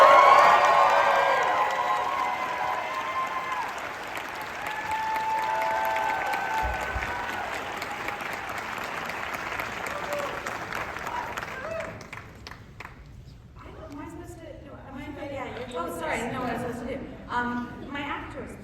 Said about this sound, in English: get ready to clap again.